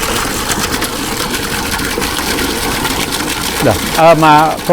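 A steady mechanical hum comes from a submersible pump motor running at full power on an inverter. The sound stays continuous and fairly loud throughout, and a voice speaks briefly over it near the end.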